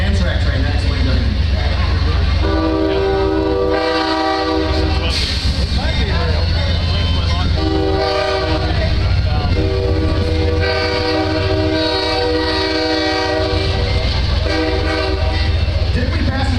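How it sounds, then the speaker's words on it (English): An Amtrak train passes with its horn sounding in long sustained blasts, a continuous loud rumble of the train underneath, and people talking over it outdoors at a rally. "Oh, it's an Amtrak train, that explains everything."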